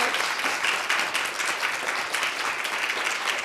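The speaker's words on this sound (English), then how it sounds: "if you can join me and give a hand clap for Kate tonight." Audience applause closing an evening talk on women in STEM, a dense, even wash of many hands clapping at a moderate distance, sustained throughout without voices.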